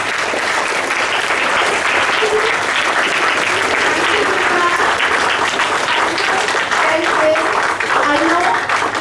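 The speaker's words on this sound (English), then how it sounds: "We should give them a big round of applause." Students and staff at a school assembly give a big, loud round of applause, sustained dense clapping throughout with excited voices and shouts mixed in.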